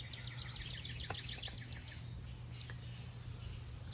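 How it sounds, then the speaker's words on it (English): Outdoor birds chirping in a steady chorus of repeated high tweets and trills, moderately distant, over a constant low hum of passing traffic, with no talking. "Aren't the birds awesome?"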